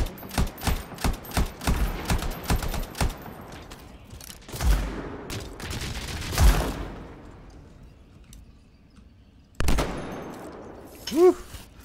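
Sniper rifle shots in the game Anthem, a rapid run of sharp cracks followed by a few spaced, heavier single shots with echoing tails and quiet gaps between.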